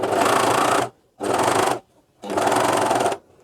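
A coverstitch machine sews a T-shirt in three separate runs, loud and close, with brief silent pauses between each burst of steady stitching.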